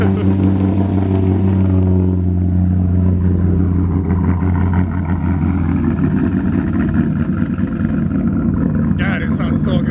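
A powerful modified widebody Corvette Z06 engine rumbles loudly at close range with a deep, steady tone, rising and falling slightly as it revs.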